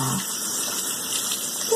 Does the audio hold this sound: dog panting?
no